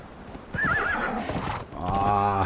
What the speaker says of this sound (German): Dieses Pferd.